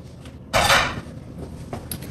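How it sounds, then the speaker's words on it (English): A Thai beef salad of sliced steak is tossed in a bowl, giving a bright scraping clatter of utensils against the dish followed by lighter scattered clinks, close and alone. "So we're gonna toss our salad."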